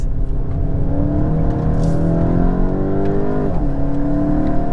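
A Volkswagen Golf GTI engine revs loud and close from inside the car, its pitch climbing through the gears before a sharp drop and rise as it downshifts, a steady throaty roar with no talking.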